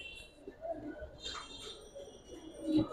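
Pigeons coo softly in a few low, short calls, faint against a quiet background with light incidental noise.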